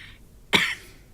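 One sharp, harsh cough bursts out, close and loud, with a rough throat-clearing edge, like someone coughing and choking on something, over a quiet room.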